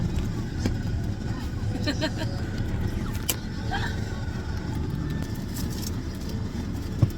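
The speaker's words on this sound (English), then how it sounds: "Back in the car with Sebastian." Inside a moving car, a steady low road rumble and engine drone fill the cabin, with occasional creaks and small rattles and faint voices in the background.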